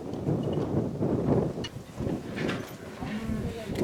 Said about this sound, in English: So it's windy, it's not a terribly brutally cold day.